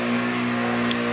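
A drift car held at high revs for a burnout, the engine droning steadily and loudly with a constant tone over a rough, noisy wash, a brief higher squeal near the end.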